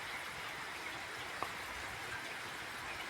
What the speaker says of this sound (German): der Tag begann mit Sonnenschein und jetzt regnet's mitten rein.